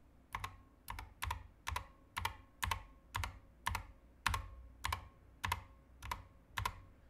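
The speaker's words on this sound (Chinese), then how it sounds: "这个键盘还有个很大的问题，就是弹簧音" Keys of a Corsair K100 RGB optical mechanical keyboard pressed one at a time in an even rhythm, about a dozen close, crisp strokes, each with a faint metallic spring ring trailing after it, in a quiet room.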